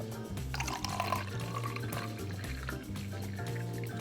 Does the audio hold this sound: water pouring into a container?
yes